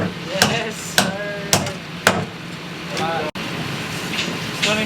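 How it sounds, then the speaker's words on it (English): A hammer strikes repeatedly at a pool beam concrete pour, four loud ringing metallic blows at a steady rhythm, with people talking nearby. "I got a good hammer finally."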